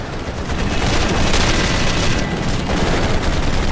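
Rapid gunfire and booms in a helicopter rescue video game, a dense continuous barrage that stays loud throughout with no talking.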